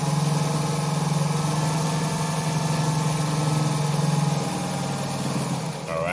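A Naumann model 70 sewing machine runs a reduced zigzag stitch, giving a steady, close mechanical hum with a fine rapid rhythm that carries evenly for several seconds before easing near the end.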